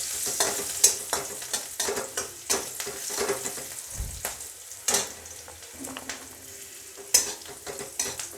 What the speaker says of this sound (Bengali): আমি সিমটাকে এমন করেই ভাজবো যাতে সেদ্ধ হয়ে যায় ভাজতে ভাজতে